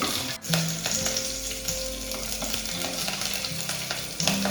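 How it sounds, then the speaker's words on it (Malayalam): Hot oil sizzles steadily with small pops and crackles of mustard seeds, close by, along with a few light clinks of a utensil. "ആ കടുകൊന്ന് പൊട്ടട്ടെ കേട്ടോ"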